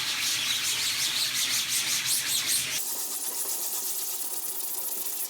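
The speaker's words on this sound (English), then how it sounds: "Scrub it a little bit more." A brush scrubs a screen printing screen during reclaiming, a steady, close, continuous scrubbing rasp that shifts to a thinner, lighter texture partway through.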